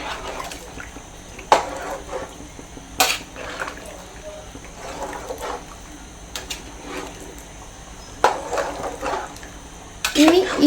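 A spoon clinks and scrapes against a pan while Kerala-style Lubikka pickle is mixed, with a few sharp knocks spaced several seconds apart over a low, quiet background.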